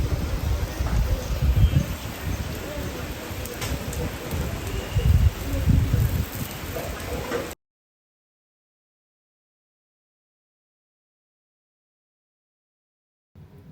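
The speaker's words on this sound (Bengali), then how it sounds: "রোদ আর বৃষ্টি একসাথে।" Rain falls steadily during a sun shower, a dense close patter for about seven seconds before cutting to silence, then returning briefly at the very end.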